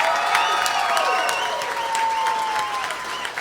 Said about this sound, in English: let's give one more huge round of applause for all of the contestants